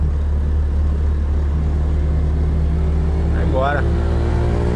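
A 1970 Chevrolet Opala runs with a steady low engine drone, heard from inside or close by, while someone talks briefly over it.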